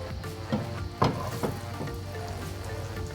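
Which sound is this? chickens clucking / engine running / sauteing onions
sauteing onions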